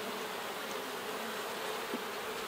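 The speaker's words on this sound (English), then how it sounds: "this hive is not excited about my location here. So there are fewer bees in this one." Honey bees buzz steadily around a hive split holding fewer bees than usual, a continuous, fairly faint drone with no voices.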